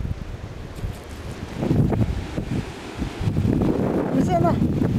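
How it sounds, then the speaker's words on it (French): A strong gust of wind roars and buffets the microphone outdoors near a turbine, swelling in loudness over a few seconds with rustling, while someone speaks French. "Ça, c'est un gros coup de vent fort."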